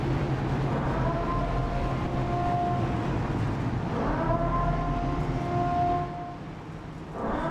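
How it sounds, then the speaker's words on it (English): A speedway siren wails before a restart at North Wilkesboro in an iRacing NASCAR Cup Series race, a sustained rising and falling tone sounding in two long cycles over a steady engine rumble and crowd bed. "Let's sound the siren just one more time."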